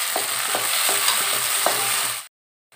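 Onion and chopped tomato sautéing in oil for an oily brinjal curry, a continuous close sizzle with regular spoon-stirring scrapes about twice a second, ending abruptly in silence.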